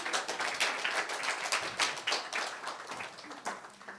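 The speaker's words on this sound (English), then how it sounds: "Let's give a big round of applause for Prabhu." Audience applause after a talk on the thirteen Apa Sampradayas and deviations in Vaishnavism: a lively burst of many hands clapping close by, uneven and textured, gradually thinning toward the end, with no talking.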